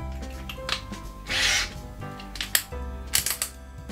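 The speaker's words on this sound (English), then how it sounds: "And now let's try to screw some screws in." An IKEA FIXA cordless screwdriver drives small screws into soft wood, giving a short whirring burst near the middle followed by clicks and taps from handling the tool and screws, all close by with no talk.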